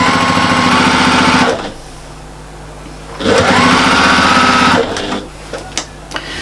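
A sewing machine stitches a quilted autumn table runner in two loud sustained runs with a pause between, then a few light clicks and handling sounds near the end.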